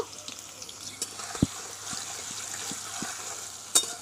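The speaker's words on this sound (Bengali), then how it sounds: "আলুগুলোকে ভেজে নেব" Potatoes frying in mustard oil in a wok give a faint, steady sizzle with a few sharp clinks and scrapes of stirring; no voices.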